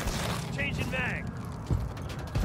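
A Call of Duty Modern Warfare 3 weapon magazine change clicks and ratchets in quick mechanical bursts, followed by a couple of sharp clacks, close and brief, over background game noise with some voice present.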